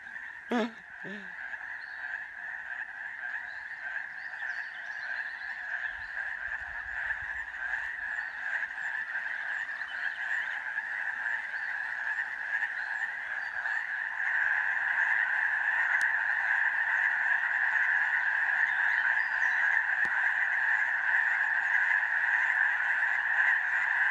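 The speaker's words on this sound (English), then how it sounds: "It's a frog party down here." Frogs croak loudly in a dense, steady chorus at a campsite along the Pacific Crest Trail, a continuous pulsing drone that holds alone for the full stretch and grows slightly louder toward the end.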